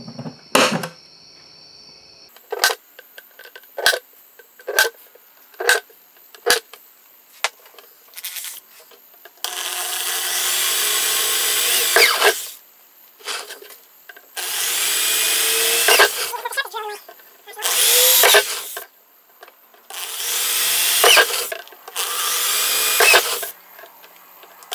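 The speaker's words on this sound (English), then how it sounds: "Now we're just going to drill." A power drill whirs in repeated short bursts, then runs in longer loud stretches as it bores through material, with brief pauses between holes.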